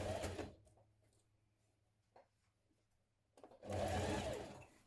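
A sewing machine stitches a shirt collar in two loud bursts of running motor at the start and the end, separated by a quiet stretch with small handling noises.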